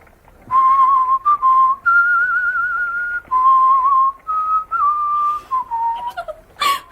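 A person whistles a simple tune alone, clear and close, in a series of sustained phrases with short pauses between them, ending with a brief noisy burst.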